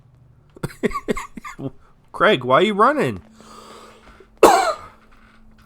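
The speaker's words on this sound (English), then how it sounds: "Already coughing." A man coughs during Fallout 4 gameplay commentary; a game character's voice speaks first, then a brief stretch of quiet hiss leads to one sharp, loud cough close to the microphone.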